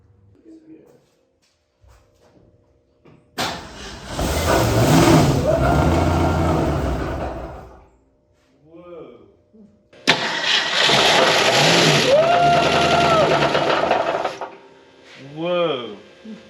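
A barn find Ford Fairlane engine, unrun for nearly 30 years, cranks and fires into two loud rough running bursts, knocking as it revs, with people talking and exclaiming between the runs.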